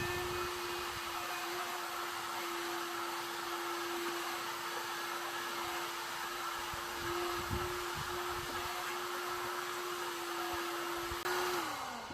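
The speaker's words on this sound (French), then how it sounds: "on va mettre un petit coup de décapeur thermique pour faire sécher la peinture" Heat gun drying fresh paint on a car mudguard, a steady close whirring blow with a constant hum that continues unbroken until it winds down at the very end.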